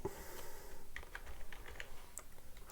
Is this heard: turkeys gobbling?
no